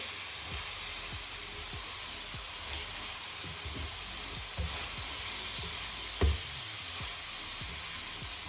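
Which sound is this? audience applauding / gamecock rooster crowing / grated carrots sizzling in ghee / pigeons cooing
grated carrots sizzling in ghee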